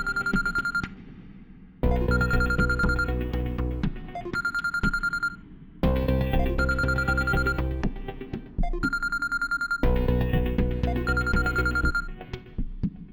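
Telephone ringing in repeated bursts, a bright electronic ring tone cycling about every two seconds with short gaps, loud and close, no voices.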